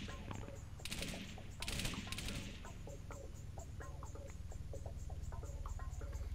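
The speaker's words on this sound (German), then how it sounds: "Wer schießt da noch?" Gunfire in the Arma 3 video game as CSAT forces attack a city: a few bursts of rapid shots at the start, then steady scattered distant pops and cracks under a continuous low rumble.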